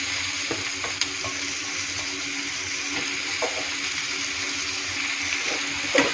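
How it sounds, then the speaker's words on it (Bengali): Cut potatoes and onions frying in a pan, a steady broadband sizzle throughout with a few faint clicks of stirring, close and even in level. "এখানে কাটা হওয়া আলুকে ঢেলে দিলাম।"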